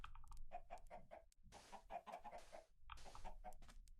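Blocky Minecraft chickens cluck in short, repeated bursts, a few clucks per burst separated by brief gaps, at moderate loudness with no talking over them.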